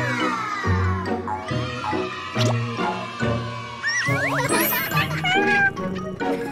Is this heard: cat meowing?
yes